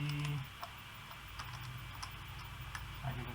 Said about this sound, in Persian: اگه بتونم تایپ کنم wikipedia.com.